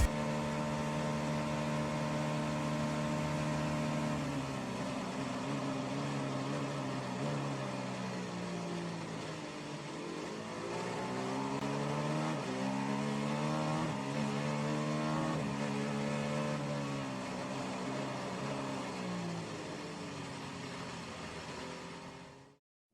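A biturbo V6 engine with 24 valves in an ARX-06 race car roars continuously, its pitch rising and falling through gear changes, loud and close, heard from inside the cockpit at Le Mans.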